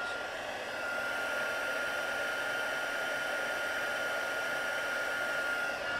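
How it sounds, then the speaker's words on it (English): A heat gun blows steadily while white embossing powder is melted on a Christmas card, a continuous close whooshing hum with a faint tonal whine and no talking. "the thing with heat embossing is not to overdo it and not to sort of throw your heat gun all the way around"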